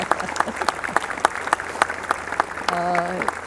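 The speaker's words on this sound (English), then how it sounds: "Please show your appreciation. Clap, clap, clap." Crowd applause at an Anzac Day parade in Devonport, New Zealand, honouring serving servicemen and servicewomen: scattered outdoor clapping with distinct individual claps, while a tonal horn-like note rises briefly near the end.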